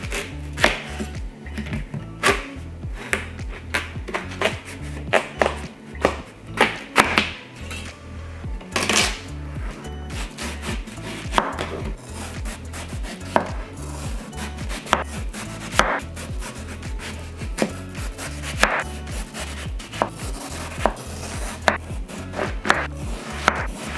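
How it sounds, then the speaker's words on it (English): A knife chops through watermelon on a cutting board in a steady run of sharp, close cuts and knocks, with occasional louder thuds, and no talking. "we're going to start by cutting and freezing the watermelon"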